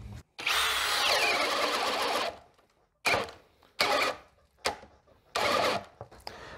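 An AEG cordless drill-driver whirs loudly at second speed, first in a sustained run of about two seconds, then in several short bursts separated by pauses, close and with no talking.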